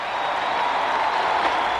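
A large crowd of more than 3,000 people at a Congressional Black Caucus event applauds and cheers President Clinton. The clapping is dense, steady and loud throughout, like a roar, with no gaps.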